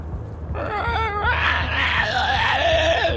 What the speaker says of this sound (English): You hear several screams now coming from the left-hand side of the hallway.